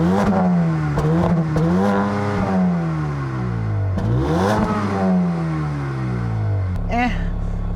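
A 2020 Mercedes-AMG CLA 35 with a 302 hp engine revs repeatedly. The pitch sweeps up and falls back in several sharp blips before a longer climbing rev. It is close and loud, and ends with a clunk.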